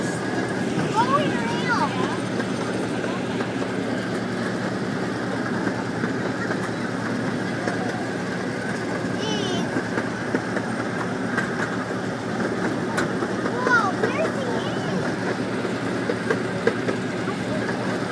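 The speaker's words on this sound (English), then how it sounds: "Steam cars going around." A small steam-style park ride train runs around its track at Watson Park with a steady rumble and faint clickety-clack. The sound is moderately near and continuous, and people talk over it.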